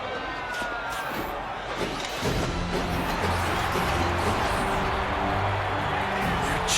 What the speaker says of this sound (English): Why is the crowd cheering for them?